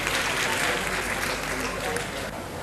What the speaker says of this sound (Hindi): आप लोग तालियां बजाकर इनका स्वागत कीजिए